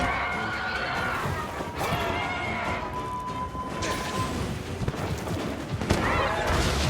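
Gunlance shells fired at rock in Monster Hunter Rise, heard as a dense run of crashing, blasting impacts layered over busy game effects and music throughout.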